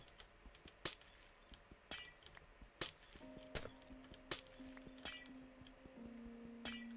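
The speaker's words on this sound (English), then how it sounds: "I apologize for the sounds of glass breaking" Glass blocks shattering in the Minecraft video game, a series of about seven sharp, crisp breaking bursts spaced unevenly over a quiet background of soft in-game tones.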